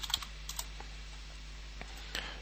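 Faint, sparse keystrokes tap on a computer keyboard in a quiet room, a few scattered clicks with short pauses between them.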